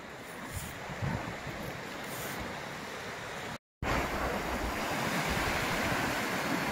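Steady roar of sea surf washing onto a beach at Vityazevo, broad and continuous, with wind buffeting the microphone and a brief dropout midway.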